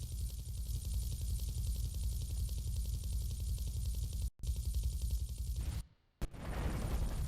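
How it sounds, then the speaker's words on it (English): A helicopter landing in Grand Theft Auto III, heard as a loud, continuous rotor chop with rapid rhythmic pulsing that cuts out briefly twice near the end. "Chopper lands."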